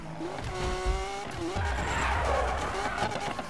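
Car tires skid and squeal as a car spins donuts in the racing video game Need for Speed (2015), a rising tonal screech over a low engine rumble, loud and continuous.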